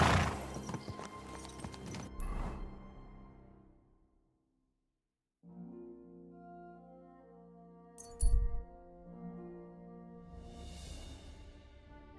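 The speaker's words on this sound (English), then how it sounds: "My, what a beautiful horse." Horse sounds from the video game Kingdom Come: Deliverance 2, with faint hoof clops and movement amid game ambience, a quiet gap midway and a brief louder thud near the end.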